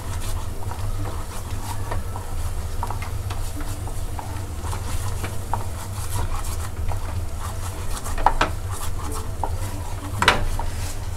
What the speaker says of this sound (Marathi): आता हे असं 2 मिनटं ढवळून घेते